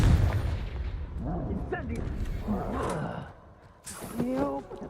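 Confringo blasting spell going off in the Hogwarts Legacy video game, a burst of booming, crackling blasts with a roaring tail, heard beneath a voice talking excitedly over the action.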